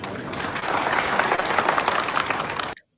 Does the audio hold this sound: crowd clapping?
yes